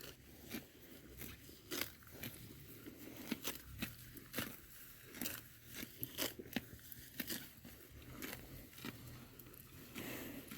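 A young calf chewing and tearing grass outdoors, a steady run of crisp crunching bites repeating close by for several seconds, with no voice over it.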